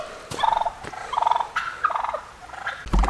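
Domestic turkeys gobbling in a muddy yard, several rapid warbling gobbles coming in bursts from close by, overlapping, with a thump near the end and no speech.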